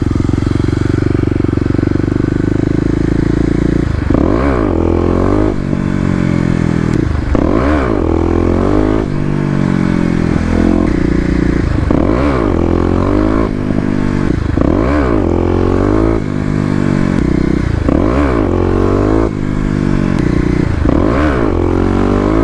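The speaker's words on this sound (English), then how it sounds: "giving it some gas. Let's go ahead and try that again." Kawasaki KLX250 dirt bike engine revving hard in repeated throttle blips, a loud close buzzing drone that surges and falls in a regular rhythm over a rough idle.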